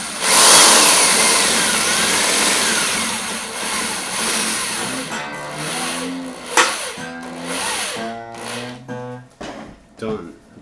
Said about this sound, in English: now I'm going to use a power drill